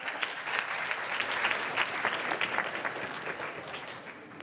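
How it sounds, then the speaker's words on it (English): An audience applauds after the introduction of a science talk on ant societies: dense, steady clapping from a crowd that swells and then fades toward the end. "So let's give him a round of applause"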